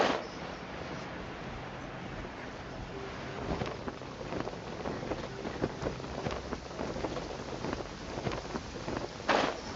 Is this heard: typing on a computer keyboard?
no